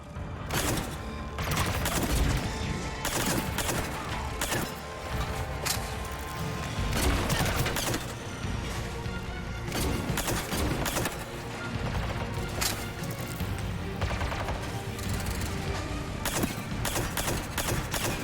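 Dense, continuous video-game gunfire in Mass Effect 3: rapid volleys of shots and impacts crackle loudly and steadily over a busy combat soundscape, with no voices over the shooting.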